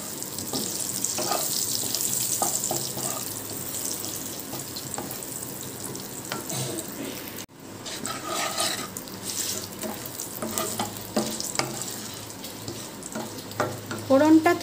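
Whole spices temper in the oil left in the pan after frying paneer, giving a continuous close sizzle and crackle with scattered pops and clinks of stirring, briefly dipping before resuming, and no talking.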